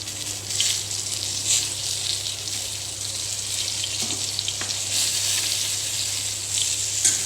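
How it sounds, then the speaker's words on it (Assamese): Eggplant slices fry in a pan with a steady, hissing sizzle throughout, over a low constant hum, and no one speaks. "এয়া ইয়াতে ভাজি আছোঁ বেঙেনা।"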